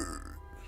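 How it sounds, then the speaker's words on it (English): One short, low, gurgling burp, a half-formed belch lasting under a second, close and moderately loud with no talk over it. "That sounded like a burp. It was half a burp."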